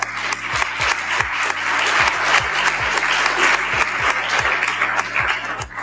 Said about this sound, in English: Give a hand clap for Together Colorado.